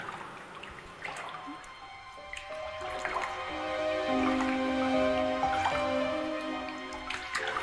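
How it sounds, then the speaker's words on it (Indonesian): Water drips steadily from a leak, with soft, irregular drops landing in a quiet space, faint and close against a low background tone. "lu dengar tetesan air nggak sih?"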